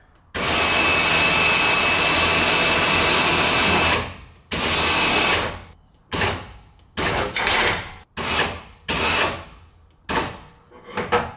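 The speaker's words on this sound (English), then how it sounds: "winch is wired up, so now it's time to test it out" A loud electric winch motor on an enclosed car trailer whines continuously for several seconds, stops, then runs in a series of short bursts separated by brief pauses.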